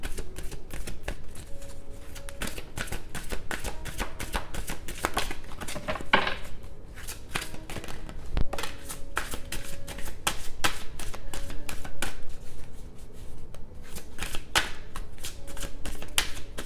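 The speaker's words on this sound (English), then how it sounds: "I will go ahead and pull a card from Stop and Smell the Roses Oracle" A deck of oracle cards shuffled by hand, a continuous close-up patter of rapid riffling and slapping cards that continues steadily throughout, with no speech over it.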